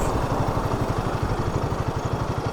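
A Royal Enfield Himalayan 450 motorcycle idles close by on a busy traffic street, its engine thumping in a steady, even pulse with a rough mechanical clatter.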